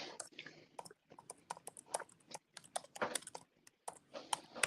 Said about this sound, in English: I am typing on my laptop.